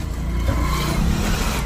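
A car engine runs with the clutch pressed down, a steady low rumbling hum up close that holds an even level without any sharp change.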